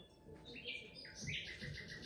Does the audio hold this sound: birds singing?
yes